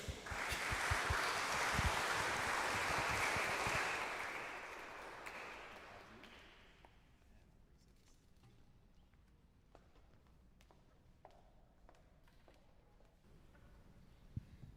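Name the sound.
audience applause in a cathedral concert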